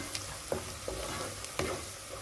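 Mustard seeds and a little fenugreek splutter in hot oil at the start of a lemon and dates pickle, a few sharp pops spaced over a low steady sizzle, close by, with no talking.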